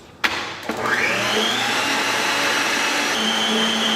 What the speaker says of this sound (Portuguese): no bol da batedeira eu vou acrescentar as claras, vou bater um pouquinho elas